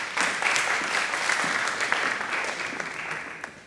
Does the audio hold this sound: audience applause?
yes